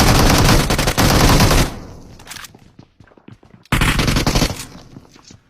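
Loud shotgun fire from the mobile game PUBG Mobile comes in two dense bursts of rapid shots, separated by a quieter stretch of faint thuds and movement.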